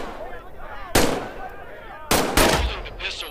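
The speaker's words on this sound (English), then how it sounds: "Grab the pistol from its holster on your hip. Squeeze the trigger to fire." Pistol shots fired in the virtual-reality shooter Medal of Honor VR: three sharp, loud reports, one alone and two close together, each trailing a brief echo over faint background tones.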